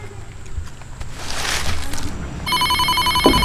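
A telephone rings indoors, a steady electronic tone pulsing in its last second over low room rumble, after a brief stretch of noisy background.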